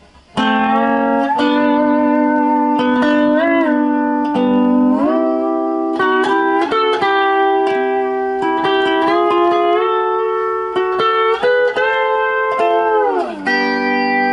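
A sliding, sustained lap steel guitar line with smooth pitch glides between notes, played solo and close, steady and fairly loud throughout.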